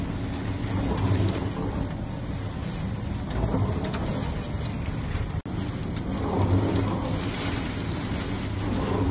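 Heavy rain pours steadily during a violent hailstorm in Técou, Tarn, with a dense, continuous roar of drops striking surfaces and a low rumble underneath, loud and close throughout with no voices.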